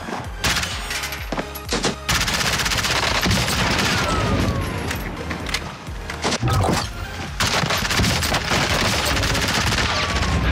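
Dense, loud gunfire from the video game Call of Duty Warzone, with rapid automatic bursts, sharp shots and booms packed across the whole stretch, with no talk over it.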